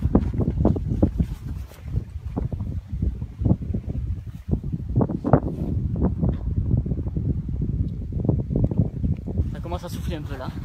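Strong gusts of wind at the edge of a thunderstorm buffet the microphone in loud, rumbling bursts, with someone talking throughout over the roar, between Uzès and Bagnols-sur-Cèze, France.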